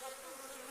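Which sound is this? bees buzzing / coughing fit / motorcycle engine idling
bees buzzing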